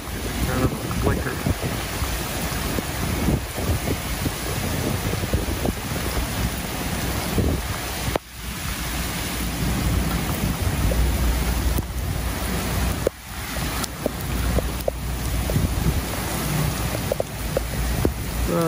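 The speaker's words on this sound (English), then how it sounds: "Rain just coming on down." A monsoon storm at Civic Center Mall brings a steady roar of rain and heavy wind buffeting the microphone, with a few brief dips in loudness.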